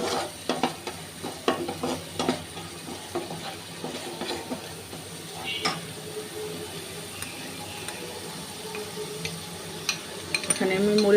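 Mustard paste is stirred into fish frying in a pan, with a soft continuous sizzle and scattered light clinks and scrapes of a spoon, fairly quiet and close.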